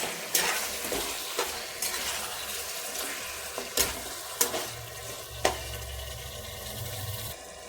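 Chicken frying in a pan for spicy green chilli chicken gravy is stirred and turned, with a steady sizzle and sharp scraping clinks of the spoon recurring every second or so, no voices.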